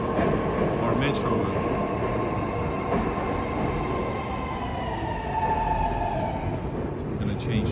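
Inside a moving St. Petersburg metro carriage heading for Technological Institute station, a steady heavy roar of wheels and rails with a faint whine, plus some chatter mixed in.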